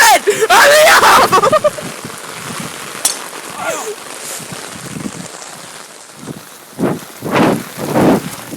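Heavy rain pours down during a golf drive, a dense close hiss with gusty bursts that overwhelm everything, while people shout and talk over it.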